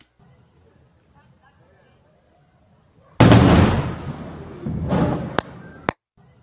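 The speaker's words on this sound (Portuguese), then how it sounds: "O que dá para ouvir aqui é o, o boom sônico, né?" A sudden loud, deep sonic boom from jet aircraft in the distance, rumbling for about two seconds, followed by a second softer boom and a couple of sharp pops.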